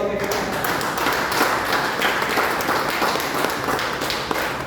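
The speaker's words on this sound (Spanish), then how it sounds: "Denle un aplauso al Señor." A church congregation claps for the Lord in a steady, loud burst of many hands, with voices calling out through the applause.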